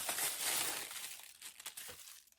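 Plastic bags from a Temu order crinkle and rustle up close, a loud burst of crumpling that trails off into softer, scattered crackles.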